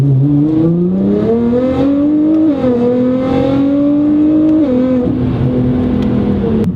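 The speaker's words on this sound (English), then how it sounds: "All-wheel drive plus launch control allow you to do consistent acceleration runs" A Nissan GT-R with all-wheel drive accelerates hard on launch control, its engine note rising loud and close through stepped gear changes with brief pitch drops between them.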